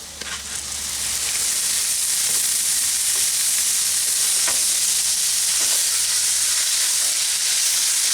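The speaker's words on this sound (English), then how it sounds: "we're gonna add some ground beef right here" Ground beef sizzles steadily on a hot Blackstone griddle, a loud, dense frying hiss that builds in the first second and then holds constant, with a few faint scrapes and no talking.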